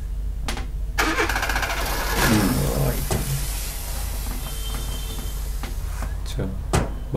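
A car engine cranks and catches to life, the starting noise rising out of steady rumble mid-clip with a few sharp clunks; no words are spoken.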